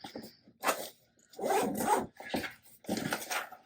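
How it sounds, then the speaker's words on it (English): An EDC pouch zipper is pulled open in several short rasping bursts, close and dry, separated by brief pauses. "If we can find our zipper"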